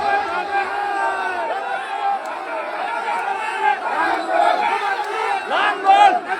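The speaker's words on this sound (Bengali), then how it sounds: "সবাই একটা মিছিল দেন।" Crowd of supporters at a Jatiya Party plough-symbol election rally in Shobhaganj-Chhaparhati union chanting procession slogans, a dense, continuous mass of voices with rising shouts throughout.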